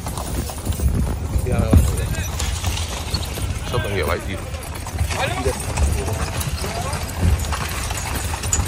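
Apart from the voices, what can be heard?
horse hooves clip-clopping, horse-drawn carriage ride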